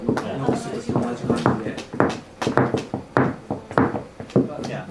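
A bamboo tool taps on skin in an ontake massage technique, giving a run of light hollow knocks like rapping on a door, steady and close, under continuous talking.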